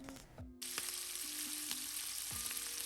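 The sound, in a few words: clarified butter and olive oil sizzling in a warm pan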